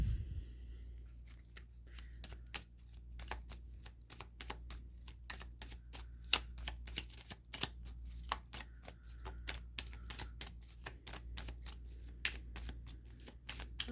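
Oracle cards from a Making Magic deck are shuffled steadily, a close, continuous run of quick crisp riffles and flicks lasting the whole stretch with no talking.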